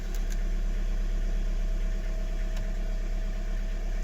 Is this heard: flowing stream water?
no